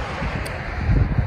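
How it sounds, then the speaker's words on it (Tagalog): Strong, cold wind buffets the microphone during an outdoor run, a steady roaring rumble with heavier low gusts near the end, and no voices are heard. "sobrang lakas po ng hangin at malamig"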